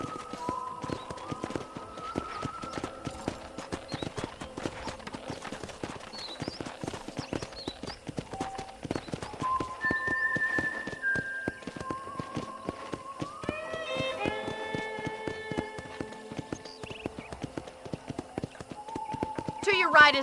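Rapid, steady clip-clop of hooves galloping throughout, with electronic musical tones and brief game sounds layered over it, from Red Dead Redemption.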